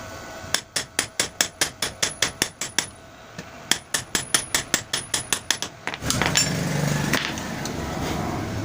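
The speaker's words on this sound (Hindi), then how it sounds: "अब हम इसी तरह इसमें भी बैरंग ठोक देंगे।" Bearings being hammered onto the rotor of a water pump motor: a rapid run of sharp metallic hammer blows, about two dozen in quick succession, close and loud, then the hits stop and a broader scraping noise follows.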